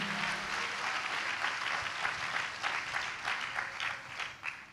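A church congregation at a Hosanna Ministries service claps loudly together, a dense, sustained burst of applause with many hands overlapping, tapering slightly toward the end.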